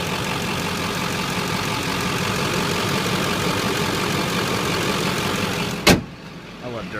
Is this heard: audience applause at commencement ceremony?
no